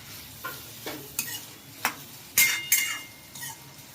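Stirring potatoes with chopped green chori beans in a pan: a string of scraping, clinking strokes at an uneven pace over a faint sizzle, close and fairly quiet, with no talk.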